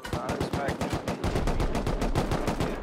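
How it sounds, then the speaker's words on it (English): Rapid bursts of rocket fire in the game Rust aimed at a tower during a large raid, a fast, evenly spaced barrage of loud blasts continuing for the whole stretch with no pause. "I'm gonna start rocketing there on the tower now."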